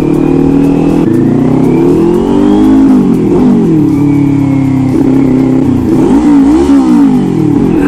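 A car engine is revved hard in repeated rising and falling surges, loud and close throughout, with no talking.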